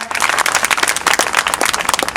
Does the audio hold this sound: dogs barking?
no